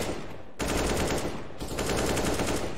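Automatic rifle spray in the game CS:GO, two bursts of rapid gunfire close up and loud, split by a brief pause.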